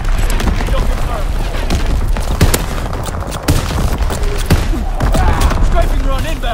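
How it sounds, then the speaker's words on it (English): Enemy mortar fire in Call of Duty: WWII thuds and booms amid steady rattling gunfire, loud and dense, with voices heard talking over the battle noise. "Enemy mortar fire incoming."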